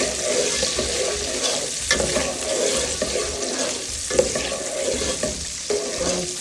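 Onion stirring and frying for Nigerian native jollof rice, a steady broad sizzle with repeated scraping stir strokes and occasional clinks, close and even throughout with no voices.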